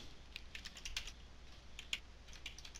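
Typing on a computer keyboard while entering a log file name during software setup on Windows, quick irregular key clicks close and quiet, with short pauses between bursts.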